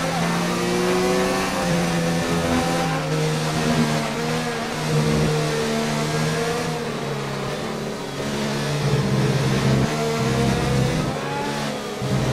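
An F1 race car engine in the racing game F1 2019, a loud continuous high-revving whine rising and falling through gear changes, close and sustained for the whole stretch, with a voice talking over it.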